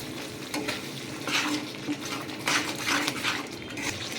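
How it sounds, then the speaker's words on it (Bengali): A spice paste mixed with sour yogurt and a little turmeric sizzles and fries in oil in a pan for a katla fish curry, with a spoon stirring and scraping in repeated bursts and no talking. "মশলাটা আমি যতক্ষণ না তেল ছাড়ছে মশলা থেকে ততক্ষণ কিন্তু মশলাটা আমি কষিয়ে নেবো"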